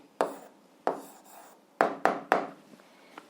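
A pen or chalk writes out an algebra answer on paper or a board in a few short, scratchy strokes, quiet and close, with small pauses between marks.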